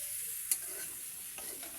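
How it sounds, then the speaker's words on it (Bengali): Okra (bhindi) frying in a pan on a home stove while being stirred. A faint, steady sizzle runs throughout, with one sharp utensil knock early on and a softer scrape near the end. "এখানে এখন হচ্ছে ভেন্ডি ভাজা"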